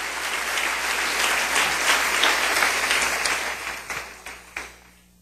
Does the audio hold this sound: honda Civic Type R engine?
no